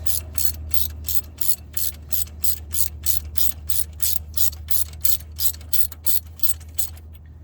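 A ratchet wrench clicks in quick, regular bursts while backing out a motor mount bolt, a close, crisp run of pawl ticks over a low steady hum, stopping abruptly at the end.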